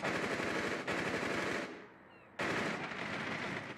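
Video game gunfire: continuous automatic weapon bursts spraying in two long runs, loud and close, separated by a short pause, with no talk over it.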